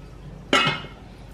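A Green Cook cast nonstick cookware set with a green stone-enamel base clinks once, a single bright metallic knock with a short ringing decay in an otherwise quiet room.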